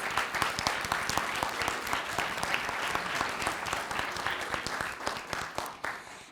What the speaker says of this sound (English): Could everyone give them a round of applause?